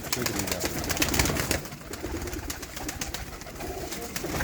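Desi pigeons coo in a soft, low, repeated murmur over a scratchy, rustling background, steady and fairly close throughout with no voices.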